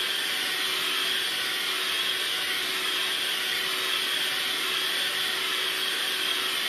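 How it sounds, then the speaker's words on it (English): An electric hand mixer whips cream in a bowl with a loud, steady whirring drone that runs unbroken and close throughout, with no talking. "I'm mixing my whipped cream. It does take a little longer because it's a hand mixer."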